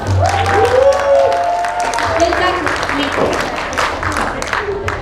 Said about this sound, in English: And please applaud for our director who sponsored the traditional hanboks to us.